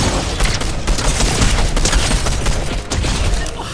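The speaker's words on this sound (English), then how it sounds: "How have I won that gunfight?" Rapid bursts of gunfire fill a Fortnite Chapter 4 gunfight, loud and dense with overlapping shots and booms, a brief lull near the end before firing resumes.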